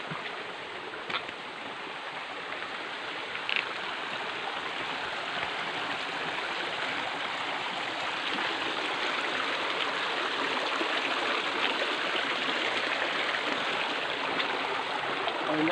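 Clean stream water flows steadily through a cave tunnel, a constant close rushing and babbling that fills the space with no talking.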